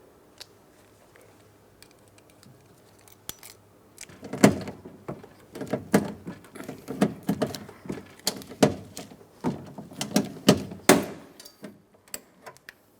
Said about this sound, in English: We're going to press this all the way up against the door, and of course, insert the rivet until it's fully secured.